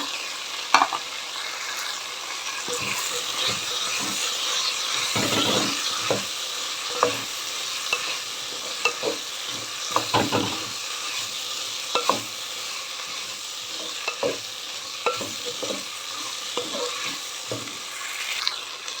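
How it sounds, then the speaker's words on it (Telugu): Bottle gourd pieces sauté in a pan for a vegetable millet khichdi, a steady frying sizzle broken by repeated scraping and clattering stirs at an uneven rhythm, close up with no voices. "ఇప్పుడు సొరకాయ ముక్కలు యాడ్ చేసుకుని"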